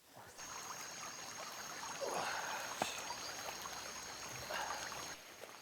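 A small rainforest stream trickles and babbles quietly and steadily at a distance, with a thin high insect-like tone running above it and no talk.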